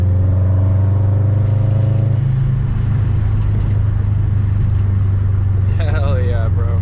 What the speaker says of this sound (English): But the car sounds amazing.